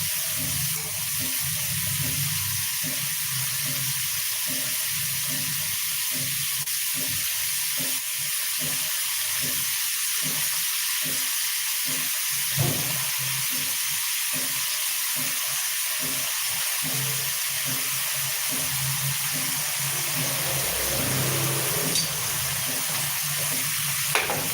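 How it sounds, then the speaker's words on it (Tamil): Steady sizzling of ginger garlic paste frying in a hot pan, a continuous crackle with faint stirring, no voices. "கொஞ்சமாக இஞ்சி பூடு பேஸ்ட்டு சேர்த்துக்கிறேன் இது வதங்கட்டும்"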